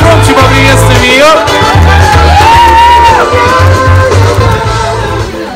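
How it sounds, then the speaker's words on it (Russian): An audience at a cosmetics presentation claps and cheers, loud and close, in a continuous roar of crowd noise. Voices shout and whoop over it, and music plays underneath. "Ваши аплодисменты. Давайте громче поприветствуем ее."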